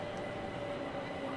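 A Southeastern Class 375 electric train runs into the platform on Southeastern High Speed in a simulator, giving a faint, steady rumble with a thin sustained whine.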